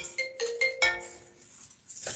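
A phone ringtone plays during a general meeting call, a short melodic electronic tune in several repeated bursts, fairly loud and close, before fading out.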